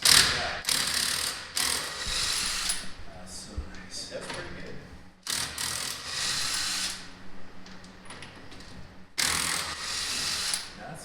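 An electric impact gun works on a car wheel during a wheel-spacer fitting on a Tesla, giving several sharp bursts of rattling hammering with people talking over and between them.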